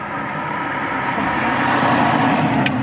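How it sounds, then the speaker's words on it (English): A car approaches from a distance, a broad steady engine and road rumble that swells gradually louder over a few seconds. "We just heard the car approaching from miles back."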